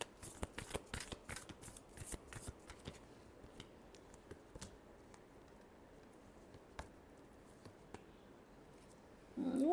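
Tarot cards are shuffled in a quick flurry of dry riffling taps that thin out into scattered soft flicks and slides, fairly quiet and close.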